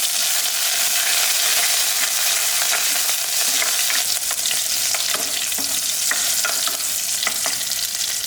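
Crushed garlic and curry leaves frying in hot oil for a gravy, a steady dense crackle and sizzle with occasional sharper pops and stirring, close and continuous throughout.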